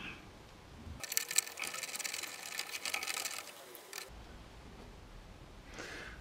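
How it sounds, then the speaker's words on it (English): A threaded bolt is wound out of a lock, making a quiet, rapid mechanical whirring and ticking for about three seconds, framed by near silence. "wind that bolt out again"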